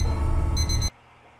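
A video game gives off a loud run of rapid electronic beeps, a bright repeating tone pulsing over steady background noise for under a second before it all cuts to near silence.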